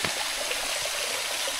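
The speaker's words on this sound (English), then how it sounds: "starting the waterfall descent." A waterfall on the Appalachian Trail between Mahoosuc Notch and Grafton Notch gives off a steady, full rush of falling water, close and continuous with no voices.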